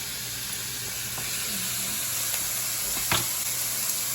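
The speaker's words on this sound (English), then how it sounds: "I'm gonna fry that up. Oh, smell that bacon." Bacon frying in a pan gives a steady, dense sizzle and hiss throughout, with a few soft clicks and pops near the end, close and alone.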